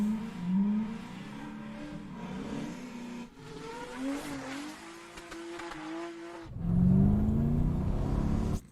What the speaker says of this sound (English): the idea is for it to sound like a car that's speeding